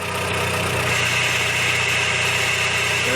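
2000 Honda Civic Si transmission noise with the clutch pedal up, a continuous idling engine hum with a rattling, whining mechanical tone recorded close to the gearbox.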